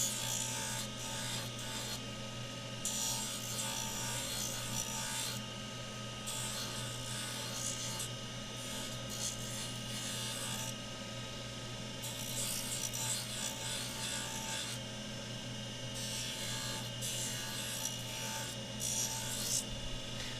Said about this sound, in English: So I'm getting the thickness using the wheel.